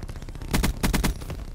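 Rapid bursts of weapon fire in a video game, several sharp loud blasts in quick succession, close and punchy with no talk over them.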